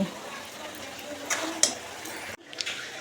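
Water is poured into a pot of cooking dal, a steady close splashing stream lasting a little over two seconds before it stops abruptly, followed by faint kitchen movement.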